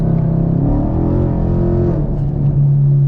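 Chevrolet Camaro SS V8 engine rising in pitch as the automatic transmission downshifts when the throttle is tapped, a loud close continuous rumble that climbs, dips briefly, then settles at a higher steady drone.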